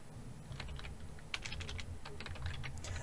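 Rapid keystrokes on a computer keyboard while typing code in Android Studio, a steady close clatter of irregular clicks with no talking.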